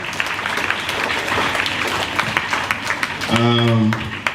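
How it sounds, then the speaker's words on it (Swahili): Scattered audience clapping for a deputy head teacher at an inter-school debate, fairly close and continuous, with a voice briefly cutting in near the end. "Makofi kwa deputy head teacher wa Zawadi."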